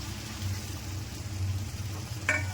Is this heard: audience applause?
no